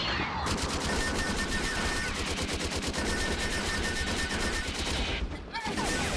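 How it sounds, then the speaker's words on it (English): Rapid bursts of anime gunfire effects that resemble laser bolts, with sharp high-pitched impacts, loud and continuous over a dense soundtrack, with a brief pause near the end before the firing resumes. "in the English track, they sound more like laser bolts or something, with odd high-pitched impact sounds when they hit their target"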